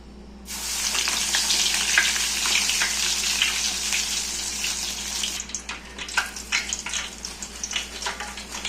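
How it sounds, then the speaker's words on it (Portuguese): Savory snacks deep-frying in an electric fryer give a loud, steady sizzle and crackle that starts abruptly and runs continuously, turning more bubbly and uneven near the end. "E aqui estão os salgados que a gente vai fritar."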